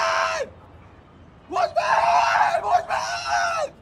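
A man trapped on the 35th floor of an apartment building screams for help, one short cry then a long, strained yell broken by a brief pause, loud and close.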